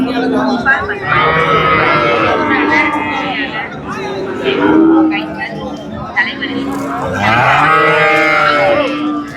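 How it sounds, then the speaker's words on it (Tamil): Heifer cows at the crowded Manapparai cattle market, loud repeated moos close by over a busy background of people chattering. "உள்ளே ஃபுல்லாக கெடேரி பசுக்கள் தான்"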